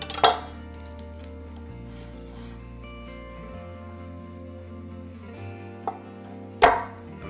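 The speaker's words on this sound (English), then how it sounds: "And then mince that up." A knife minces a smashed garlic clove on a cutting board, with a few sharp chopping knocks and a light clink over a faint steady hum, close by and without speech.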